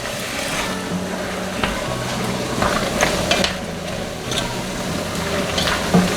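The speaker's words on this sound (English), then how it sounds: "Give that a good stir, keep it on the high heat." Venison and vegetables stir-fried over high heat on a stovetop, a steady close sizzle running throughout with periodic scraping stirs and clattering utensil knocks.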